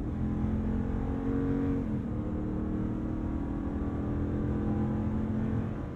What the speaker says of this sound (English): I also love the sound of that Hemi V8.